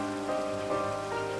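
Rain falling near a campus, a steady soft patter across the clip, fairly quiet with a faint tonal hum underneath and no voices.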